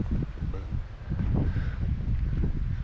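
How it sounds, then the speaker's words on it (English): Steady wind buffets the microphone on an open Scottish hillside footpath, a low continuous rumble with gusty swells and faint rustling, no voices. "There is a bit of a wind blowing through here"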